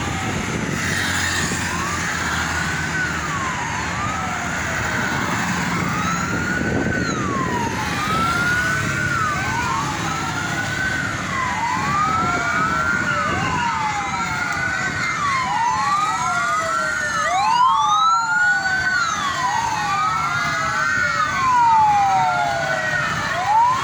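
Damkar Banten fire truck siren wailing in repeated rising and falling sweeps, loud and steady throughout, with a low rumble of traffic underneath.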